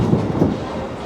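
The Disneyland Railroad train rolls along its tracks at the theme park, a loud close rumble with faint rhythmic clacking of wheels and no talk.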